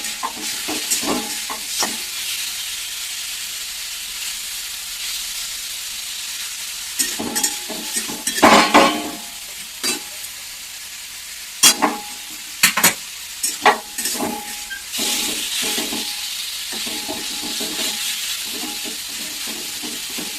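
Chicken lightly frying in oil for a salad: a soft, steady sizzle, with clusters of spatula scrapes and pan knocks in bursts. It sounds close, with no voices.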